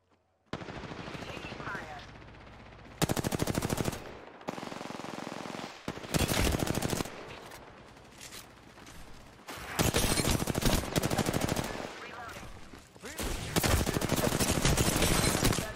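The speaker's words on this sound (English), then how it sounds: "I'm under fire." Video game gunfire in an offline match, loud automatic bursts and rapid shots that repeat in several long volleys, with brief quieter gaps between, under occasional in-game voice callouts.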